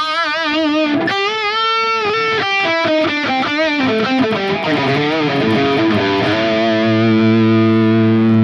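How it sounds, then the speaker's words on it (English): A heavily distorted electric guitar through a Sonicake Matribox II Pro high-gain preset plays chords and riffs with a thick, saturated high-gain rock tone, ending on a sustained ringing chord. "Overall, a very nice high gain rock tone."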